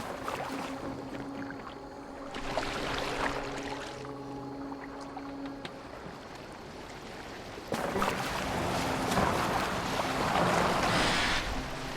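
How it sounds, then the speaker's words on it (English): A boat moves across open water in the video game Assassin's Creed Valhalla, with steady wash, low rumble and wind, swelling louder in the second half; no one speaks. "Are you well enough to steer this boat?"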